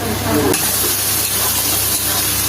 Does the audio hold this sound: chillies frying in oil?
yes